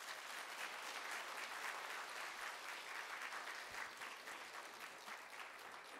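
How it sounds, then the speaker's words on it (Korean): A church congregation claps warmly to welcome the pastor onto the stage at an autumn worship service, a steady, dense wash of many hands that holds throughout without a break. "또 힘내세요, 하나님 감사합니다 이런 마음으로 뜨겁게 박수로 맞아주시겠습니다"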